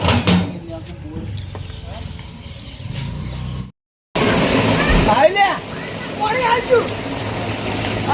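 Water gushes from a running borewell pump in a steady, loud rush, broken by a brief dropout partway, with people talking and calling out over the flow.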